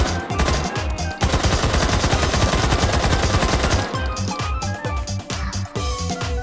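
A 9mm MP5-style submachine gun firing in the VR shooter H3VR: loud, rapid sustained full-auto bursts of sharp shots, a long continuous burst followed by shorter strings of rounds, close and without talk.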